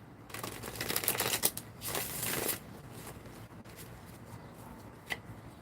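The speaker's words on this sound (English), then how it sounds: "And I'm shuffling 5 times." A stack of tarot cards riffled and shuffled in a few quick bursts of papery flutter, close up, with quieter handling noise afterward and no talking.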